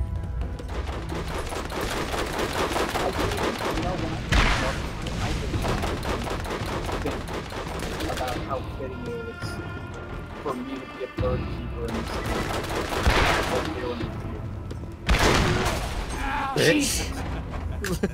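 Machine gun fire from the Borderlands video game, with dense bursts of rapid gunshots running throughout and louder blasts rising at intervals, mixed with game effects while players talk over it.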